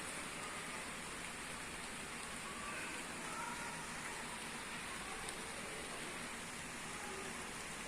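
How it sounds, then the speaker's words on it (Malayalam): Rain falls steadily at night, a faint, even hiss of drops on surfaces that continues unbroken with no voices. "മഴ ഇങ്ങനെ പെയ്തുകൊണ്ടിരിക്കണതാ."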